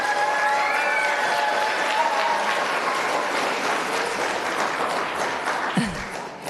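Applause at a city council meeting rolls on steadily, a dense crowd clapping that thins slightly toward the end, with a faint voice and a brief knock near the close.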